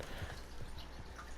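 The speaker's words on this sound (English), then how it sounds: "I'll usually call my horse over here." Horse hooves in Red Dead Redemption 2 clopping softly at a walk, a few faint irregular steps low under steady game ambience.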